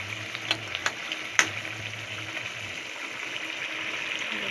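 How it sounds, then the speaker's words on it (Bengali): Chicken bone curry with potatoes simmering in a pot gives a steady, soft bubbling sizzle with a few sharp pops near the start, fairly quiet and close, with no talking. "আলুটা দেখতে ফুটছে"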